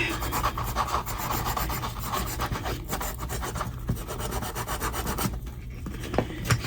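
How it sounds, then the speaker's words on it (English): A washer from a tube radio's tuning dial mechanism is scrubbed with a Scotch-Brite pad, giving a steady, close, rasping scrub that runs continuously with no talk. "And we're going to Scotch-Brite that now."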